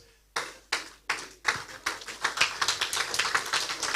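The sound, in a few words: applause for a speaker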